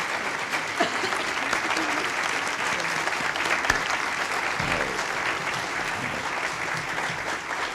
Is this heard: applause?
yes